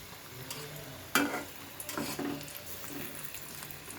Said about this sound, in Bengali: খুব ধীরে আজ দিয়ে ভাজতে হবে না হলে ভিতরটা ভালো করে ভাজা হবে না